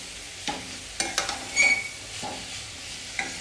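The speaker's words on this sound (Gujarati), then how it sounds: "મિક્સ કરતા રહેવાનું છે અને કોબી સરસ બેસી ગઈ છે" Cabbage curry with turmeric being stirred in a pan, a spoon scraping and tossing the soft shredded cabbage in a few separate strokes with a faint sizzle underneath.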